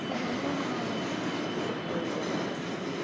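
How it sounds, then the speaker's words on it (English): A massive train carrying cars rolls along with a steady rumble and clatter of wheels on rails, heard from on board, continuous and moderately loud, with no talk. "The train is massive."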